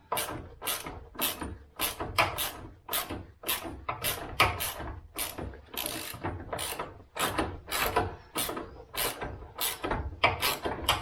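Power tool repeatedly whirring and ratcheting as a rear subframe bolt is run in on a car, a steady series of loud, close mechanical bursts with brief gaps between them.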